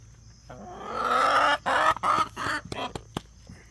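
Backyard chickens cluck and squawk close by in a lively burst of several overlapping calls, rising after a quiet start and breaking into short choppy bursts toward the end.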